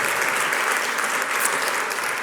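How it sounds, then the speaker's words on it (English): An audience at a LIMITL3SS 2025 talk in Târgu-Mureș applauds to welcome a speaker, a dense steady wash of many hands clapping together, full and even with no voices. "let's welcome her with a big round of applause to Târgu-Mureș"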